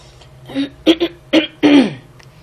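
A person clears their throat in a few short, rough bursts, close up, with no other sound around it.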